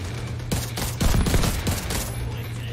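Dense rapid gunfire in The Division 2: a sustained volley of overlapping automatic shots with heavy bursts throughout, loud and continuous.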